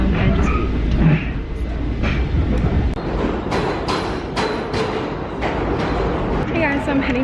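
Steady rumble and rattle of a moving train carriage, a continuous loud ride noise with soft clicks, while voices murmur in the background throughout.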